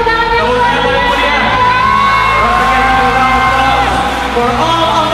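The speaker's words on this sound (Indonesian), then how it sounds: "Oke, sekarang kita kasih tepuk tangan yang luar biasa" A crowd whoops, shouts and cheers loudly and continuously for guest stars John Terry and Alessandro Nesta at a badminton event, a dense roar of many voices.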